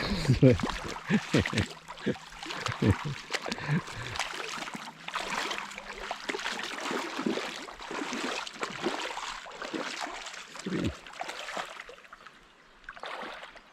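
A mountain river in the Carpathians, the Stryi, rushes steadily beneath a bridge, a continuous broadband wash of flowing water with people talking and laughing over it, closer voices and clatter early on.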